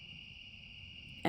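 Spring peepers calling in woods at night, a steady, dense high-pitched trilling chorus from a distance, heard alone until a sudden louder handling noise at the very end.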